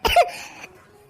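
A single short, harsh cough from a character in an Awadhi family cartoon comedy, close and loud, trailing into a brief quiet breathy tail.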